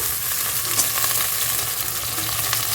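Potatoes hitting hot oil in a pan for a pumpkin-leaf and shrimp dish, giving a dense, continuous close sizzle with faint stirring scrapes, steady throughout and with no talk.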